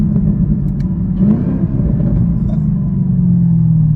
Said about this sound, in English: By that Corsa Extreme exhaust.